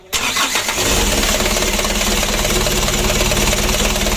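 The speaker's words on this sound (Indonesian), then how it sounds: "Untuk mesinnya sudah hidup." A rebuilt 120 PS Mitsubishi 4D34 diesel engine cranks briefly on the starter, then catches and runs at a loud, steady, close-up idle.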